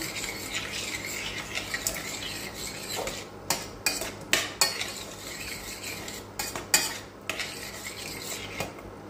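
A spoon stirs and scrapes sauce ingredients together in a pot for a seafood Armoricaine sauce, with irregular clinks and rubbing strokes against the metal over a faint background, close and moderately loud.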